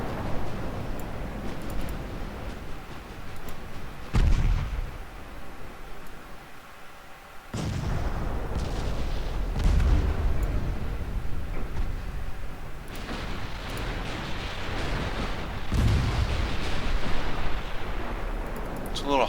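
Naval guns fire in Ultimate Admiral Dreadnoughts, with several heavy booming salvos spaced across the stretch over a steady rumbling battle ambience.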